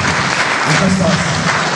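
Audience applause at an anniversary celebration, a dense, steady wash of clapping from many hands close by throughout.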